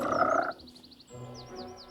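Giant frogs in the video game Pathfinder Kingmaker croak in a short series of close chirping calls, set against a low ambient game background with no talk.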